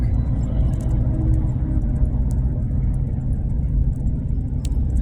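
A big forest fire truck drives past as a loud, steady low rumble of a heavy engine, close and continuous, with faint ticking above it and no talk.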